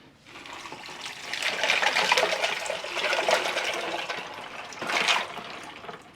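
A pitcher of water pours steadily into a brine container for a smoked turkey breast, giving a continuous splashing and filling rush that swells and then tapers off.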